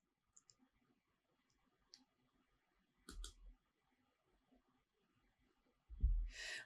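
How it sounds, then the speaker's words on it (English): Computer mouse clicks, a few faint sharp ticks scattered over quiet background with a couple of louder clunky bumps. "So if we click on this"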